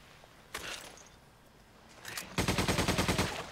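A gun firing in the video game Resident Evil 5: a brief quieter shot or two, then a rapid, steady burst of automatic fire lasting about a second, close and loud, with little else around it.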